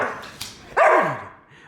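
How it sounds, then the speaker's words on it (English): A pit bull mix dog gives a single loud, close bark that trails into a short whine, preceded by a faint brief yip. "She is my pit mix."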